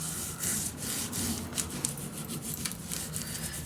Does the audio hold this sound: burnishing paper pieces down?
yes